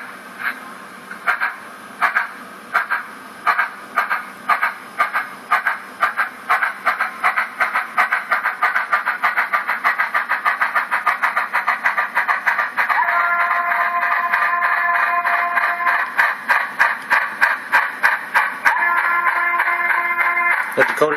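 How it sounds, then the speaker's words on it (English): A model Santa Fe 2-8-8-2 articulated steam locomotive with a Soundtraxx heavy steam sound decoder and small speaker chuffs in rhythmic exhaust beats, then gives sustained whistle blasts and hissing as the chuffs continue, close and clear. "I finally got that heavy steam decoder that I needed in my Santa Fe 1790."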